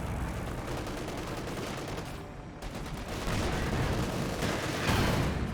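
Thompson submachine guns and grease guns rattle in a dense, overlapping exchange of fire in Company of Heroes 2, loud and continuous with heavier bursts swelling near the end.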